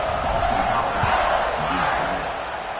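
A home stadium crowd in a college football video game, Notre Dame versus BC, roars as a steady, broad wash of cheering that stays loud and continuous, easing slightly toward the end.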